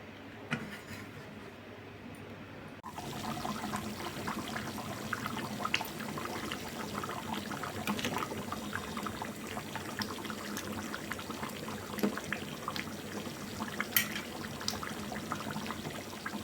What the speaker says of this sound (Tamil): நல்லா 1 டம்ளர் தண்ணி போட்டுக்கலாம்